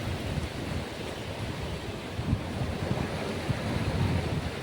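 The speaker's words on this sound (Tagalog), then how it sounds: "Laki ng alon." Ocean waves surge and crash in a continuous roar, mixed with gusty wind buffeting the microphone; no voices.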